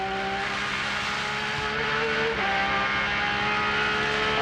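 A Porsche race car engine screaming at about 9,000 revs, a loud sustained high-pitched wail with a brief pitch dip and recovery midway, heard up close on a banked racetrack without talk.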